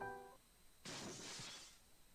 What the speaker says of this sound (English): I hear the sound of glass shattering in the hallway